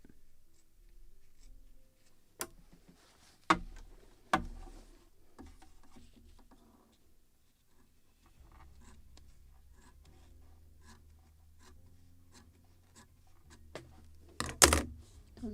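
Scissors snip through sail cloth for a model of the 1776 gunboat Philadelphia, giving sharp, close, isolated cuts with a louder snip near the end, spread among soft rustling and handling noise over a quiet room.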